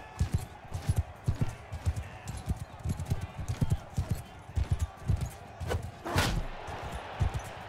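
Horse hooves in the video game Mount & Blade: Bannerlord, a rhythmic run of close clip-clop beats with occasional thuds and a burst of impact, while a person talks over it.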